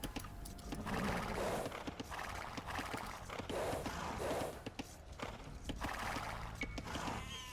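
Horse in the video game Age of Empires II, with steady clip-clop hoofbeats and breathy snorts and sighs, a whinny breaking through now and then, moderately close and free of talk.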